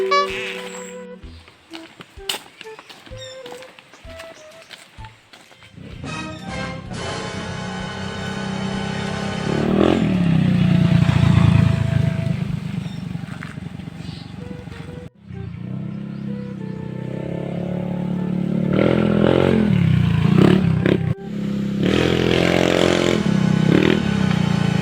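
A motorcycle engine revs and idles up close for a while, with clattering and scraping around it and occasional voices in the background.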